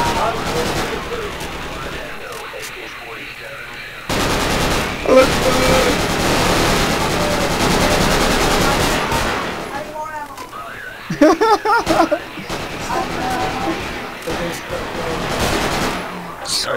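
Gunfire in Project Reality, a Battlefield 2 military mod, crackles in rapid automatic bursts and scattered shots, with a sharp, loud cluster of reports near the end, mixed with battlefield noise and voices.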